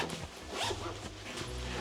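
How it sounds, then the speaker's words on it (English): An expandable zipper on a carry-on travel backpack is pulled open in a steady, close rasping run that lasts nearly two seconds, with brief pauses in the pull. "But there is like this expandable zipper just here."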